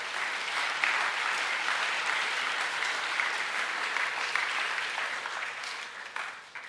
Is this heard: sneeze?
no